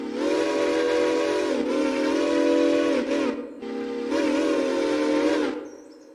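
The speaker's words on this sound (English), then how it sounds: "We have an NYC Hudson 6 chime." NYC Hudson 6-chime steam train whistle in the Railroader video game: a long loud blast, a short toot, then another long blast after a pause, bright and close, ending cleanly with no speech.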